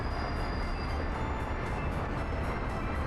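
A train in the Soviet city-builder game Workers & Resources: Soviet Republic rolls past with a steady, dense rumble and rail noise, loud and continuous, with no voices.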